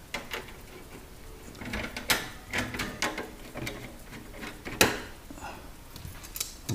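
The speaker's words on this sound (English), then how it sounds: "Use a 5/16 nut driver to remove the screws." A 5/16 nut driver takes out the screws on the kick plate of a Sub-Zero UC-15 ice machine, giving irregular metallic clicks, scrapes and taps close by, with no speech.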